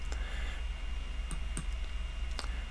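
A computer mouse clicks while stepping through a software installer: a few sharp, isolated clicks spaced irregularly over a constant low electrical hum, close up with no talk.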